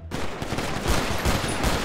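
Dense automatic gunfire from a Counter-Strike mode played in GTA 5 roleplay on de_dust, rapid overlapping shots firing continuously and loudly throughout, with no talk.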